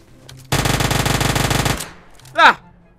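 An Uzi fires one rapid full-auto burst of about a second in PUBG Mobile, loud and close with evenly spaced cracks. The burst cuts off sharply and a brief voice-like sound follows.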